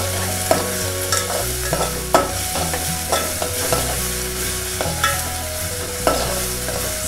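Onion and tomato sauté in a pan for spiced rice, with a steady close sizzle broken by regular scraping stirs of a utensil against the pan, several knocks spaced about a second apart.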